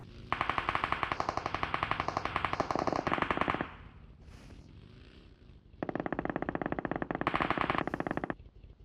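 Automatic-weapon fire in the battle royale game PUBG Mobile: two long, rapid bursts of loud gunshots with a short quieter gap between them and no voices.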